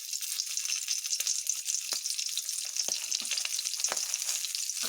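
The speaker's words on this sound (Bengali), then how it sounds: "তেজপাতা ফোড়ন দেব আর এলাচ আর একটু কালো সর্ষে ফোড়ন দেব" Bay leaf, cardamom and black mustard seeds sizzle steadily in hot oil, a close, continuous crackling hiss broken by a few sharper pops and spits.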